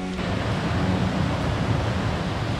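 Waterfall at Ravens Cliff Falls roaring as a steady broadband wash of rushing water, close and constant with no breaks.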